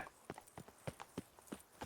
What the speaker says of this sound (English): That guy's horse is freaking out.